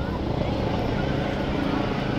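Several helicopters fly overhead above a large protest at Horse Guards in London, giving a steady, loud, low rumbling drone that holds for the whole stretch with no break.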